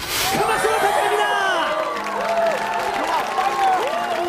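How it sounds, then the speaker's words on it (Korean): Korean TV talent-show studio audience clapping and cheering loudly, with whoops rising over the applause and bright synth tones sweeping through the music bed. "큰 박수 부탁드립니다."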